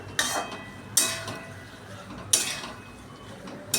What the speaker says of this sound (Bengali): এখন আমি পুরো সবজিটার উপরে মশলাটা মিশিয়ে নিচ্ছি।